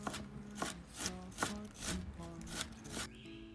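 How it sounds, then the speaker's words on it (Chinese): A knife mincing peeled lotus root on a chopping board, a steady series of about eight firm chops in a regular rhythm, close and moderately quiet, no talking. "莲藕洗净去皮， 也切成末备用。"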